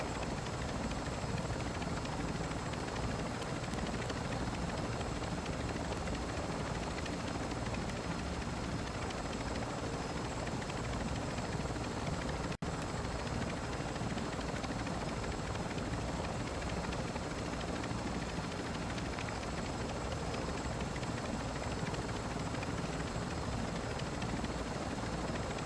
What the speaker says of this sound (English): It's a helo commander.